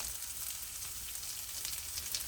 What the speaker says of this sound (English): so to that I'll add in my onion and my curry leaf